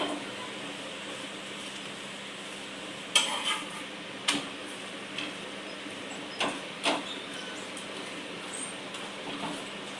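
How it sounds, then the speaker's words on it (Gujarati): A spatula flips and scrapes a ghee-coated bottle gourd thepla on a griddle over a low gas flame, giving a few soft, separate taps over a steady background hiss. "અને હવે તાવીથાના મદદથી આપણે એને ફેરવી લઈશું."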